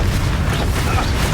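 Confringo fire spell blast in the Hogwarts Legacy video game: a loud, dense, continuous roar of explosive rumble that fills the whole moment without a break or any voice.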